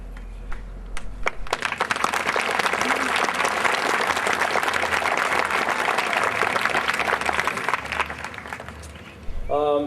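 An audience at a graduation ceremony applauds in a loud, sustained burst of clapping that swells and carries on for several seconds before it tapers off at the end.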